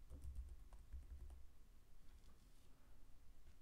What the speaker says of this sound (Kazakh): Кілт сөзімізді қайталаймыз.